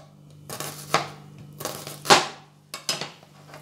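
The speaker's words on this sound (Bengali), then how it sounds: "এরকম স্লাইস করে কেটে নেব।" Kitchen knife slicing onions on a cutting board, a handful of crisp separated chops and crunches in quick clusters, close and clear against a faint steady hum.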